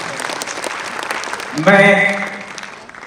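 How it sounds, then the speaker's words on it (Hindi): Audience applause at a Hindi comic poetry gathering (hasya kavi sammelan), a dense wash of clapping for about a second and a half, then a voice cuts in loudly over the fading claps. "मेरे सम्मान में आप ताली बजा सकते हैं"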